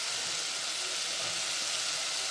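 Chopped green onion fries in a masala paste, giving a loud, continuous sizzle and hiss that holds steady from start to finish with no pauses.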